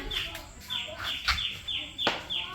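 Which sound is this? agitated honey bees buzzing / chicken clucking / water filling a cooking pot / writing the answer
chicken clucking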